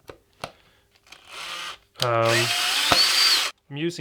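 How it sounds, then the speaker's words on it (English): A handheld power drill drives bolts back into the neck of an Epiphone SG guitar, giving short bursts of whirring with a sustained run in the middle and brief pauses between. "I am screwing in the bolts back into the neck"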